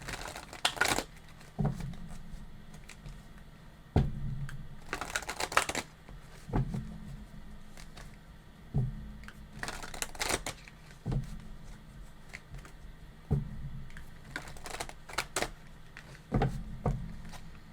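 Tarot cards shuffled in repeated bursts of riffling and slapping, several distinct rounds spread across the stretch, close and fairly quiet with no talking.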